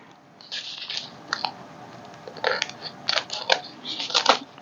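Snipping and rustling close by: several crisp, irregular cuts and clicks from scissors being handled, with light handling noise between them.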